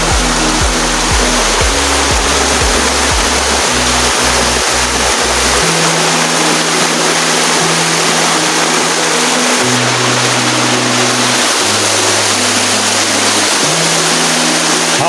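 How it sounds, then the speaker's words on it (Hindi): A mountain waterfall in Soon Valley pours down from the hills, a loud, steady broadband rush of falling water that fills the whole clip, with a low droning hum underneath. "जो ऊपर वाला पानी आबशार वाला आ रहा है, पानी ऊपर से आ रहा है, पहाड़ों से पानी आ रहा है।"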